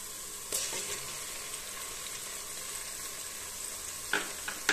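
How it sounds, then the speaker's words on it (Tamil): Ginger garlic paste fries in hot oil for coriander rice, a steady loud sizzle running throughout with brief louder scrapes from stirring near the start and end. "இஞ்சி பூண்டு பேஸ்ட் நல்லா எண்ணெயில வதக்கிட்டேன்"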